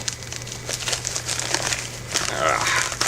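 Plastic bags or envelopes crinkling as they are handled, close and fairly loud, with irregular crackling bursts that grow busier toward the end.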